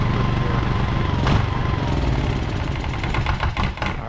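A Honda EX1000 generator engine runs nearby at a steady, loud putter, with a brief metallic tick and some uneven rattling near the end.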